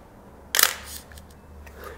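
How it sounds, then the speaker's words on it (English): A single crisp shutter release of a film camera fitted with a 28mm lens, firing at f8 and a 30th of a second while handheld in an abandoned building, one sharp close click followed by quiet. "right now I just want to shoot a photo of this sink right here and kind of straight into this corner"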